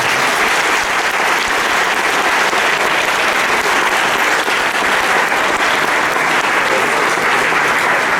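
An audience applauding after a lecture on the limits of constitutional reform power: dense, sustained clapping from many hands, steady and loud throughout with no pauses.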